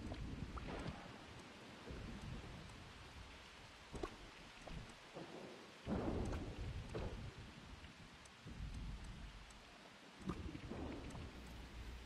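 Rain and thunder in the Disney Dreamlight Valley video game: steady rainfall hisses throughout while several deep thunder rumbles roll in and fade at irregular intervals, with no talking.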